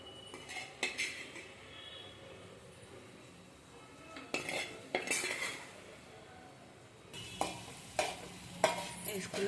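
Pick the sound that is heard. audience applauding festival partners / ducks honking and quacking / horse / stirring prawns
stirring prawns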